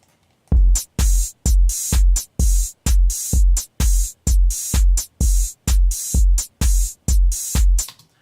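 A loud electronic drum loop pounds out a steady, punchy beat of repeated kicks and bright hits with crisp gaps between them.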